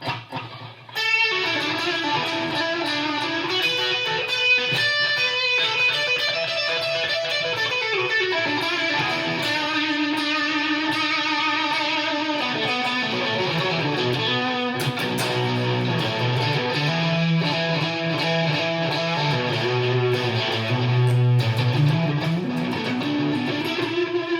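A fuzzy, saturated electric guitar played through a Fender Mustang GTX100 amp's fuzz effect plays chords and bending lead lines, steady and fairly loud throughout with no voices.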